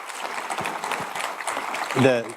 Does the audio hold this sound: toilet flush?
no